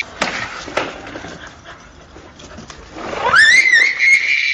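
A dog whimpers and pants, with a few scuffles early on, then lets out a rising high-pitched whine near the end.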